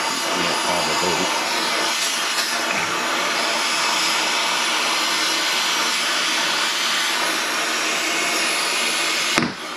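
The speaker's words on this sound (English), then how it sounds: "I heat the bolt, because I'm pretty sure there's Loctite on it." A torch roars steadily while heating a bolt held by Loctite during work on a 6.7L engine swap. The hiss is loud and continuous, with a brief shift right at the end.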